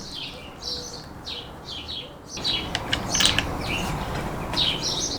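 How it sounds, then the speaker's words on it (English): Phillips screwdriver turning screws out of the multifunction handlebar switch on a Suzuki V-Strom 800 RE, soft close ratcheting clicks over steady background noise, with birds chirping repeatedly nearby. "There are two screws, one here and one over here. So take your Phillips screwdriver"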